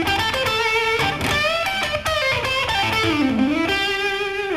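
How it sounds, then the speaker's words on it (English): Electric guitar with heavy distortion runs through an A blues pentatonic phrase with bends and vibrato, sustained notes sliding between pitches, loud and alone without talk. "There's also the blues pentatonic scale, which is pretty popular amongst rock players."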